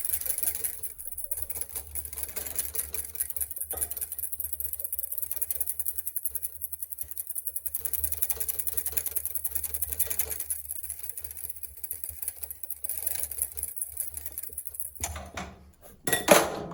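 A whisk scrapes steadily against a pan while butter is beaten into hollandaise sauce, a continuous rapid metallic clatter lasting most of the stretch before a brief pause and a louder final clink.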